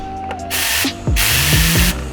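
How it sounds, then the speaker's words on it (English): Loud hissing bursts of a pressurized air Tornado cleaning spray gun close by, two long blasts with a brief pause between and a whining tone underneath. "I brought my little tornado machine."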